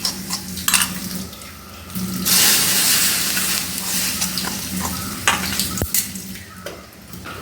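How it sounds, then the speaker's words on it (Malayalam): Chili powder sizzles and hisses in a hot pan with bursts of stirring and a few metallic scrapes and clinks, steady and close; no voices. "ഇപ്പം നമ്മുടെ മുളക് പൊടി നന്നായിട്ട് ചൂടായിട്ടുണ്ട്"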